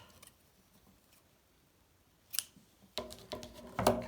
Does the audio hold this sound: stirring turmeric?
no